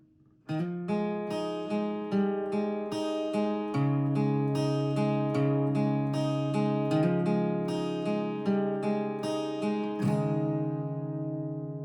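Slow, clean guitar strums of the interlude from a song ring out one after another, each chord left to sustain before the next, ending on a long fading chord.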